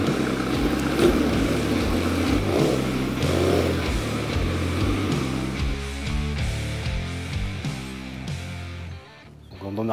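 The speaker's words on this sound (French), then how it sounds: "Quand on arrive avec les motos qui font un peu de bruit, c'est des grosses motos" Big motorcycles roll in toward a school, their heavy engines rumbling and revving steadily at close range before easing off near the end.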